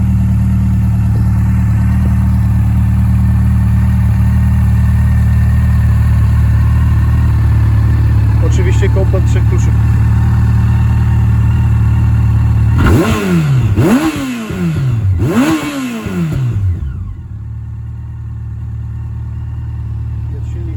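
A 2006 Yamaha FJR 1300 motorcycle with its dB killers removed from open exhausts idles with a steady deep rumble beneath someone speaking. A few sharp revs swell and fall away quickly near the end.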